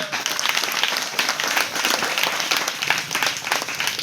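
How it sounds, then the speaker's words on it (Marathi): Dense audience applause at a school Independence Day gathering, a steady wash of many hands clapping that stays loud and continuous throughout, with no voices on top. "स्पेशल आपण इथं टाळ्या वाजवल्या"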